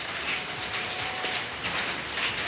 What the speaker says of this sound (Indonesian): Ini hujannya sudah mulai datang lagi teman-teman.